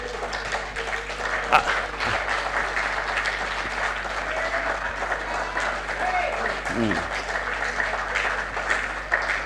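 A symposium audience at a conference on countering organized crime in Africa applauds an honored guest, a steady mass of clapping with a low hum beneath and brief voices cutting through.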